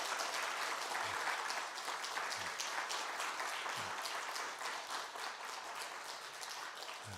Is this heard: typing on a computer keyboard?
no